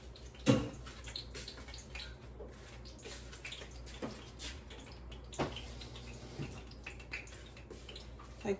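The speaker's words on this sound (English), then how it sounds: "We're gonna add some water to this." Water poured into a pot of sweet and sour sauce, faint splashing and trickling with a few sharper drips and clinks, quiet and close.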